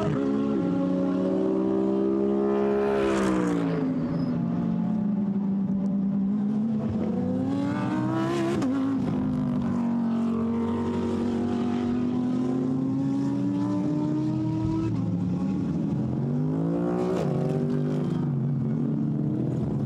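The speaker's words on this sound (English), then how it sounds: "as he accelerates through L'École now onto the Mistral straight" Mercedes GT race car in a Blancpain GT Sports Club practice session at Paul Ricard accelerating onto the Mistral straight, engine note climbing through gear changes with repeated rising whines, loud and continuous throughout.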